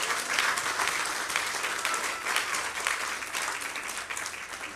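A church congregation applauds during a service, a continuous wash of many hands clapping, moderately loud and steady, with little talk.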